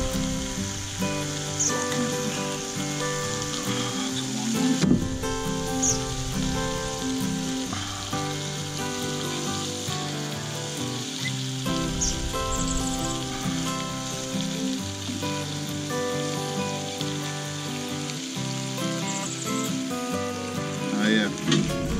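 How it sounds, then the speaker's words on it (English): Bacon frying in a pan on a homemade rocket stove outdoors, a dense, steady sizzle and crackle that runs loud and unbroken throughout, with no talking. "Pretend we're camping and I'm cooking bacon."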